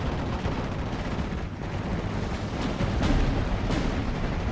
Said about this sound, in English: We have the armored rifles taking that out with a bazooka.